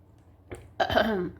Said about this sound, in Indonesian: Ini aku agak pilek sekali ya, batuk ya, jadi berisik ya.